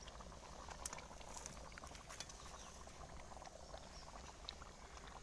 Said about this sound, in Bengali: মাছটা এভাবে টকবক করে ফুটিয়ে নেব 10 মিনিট।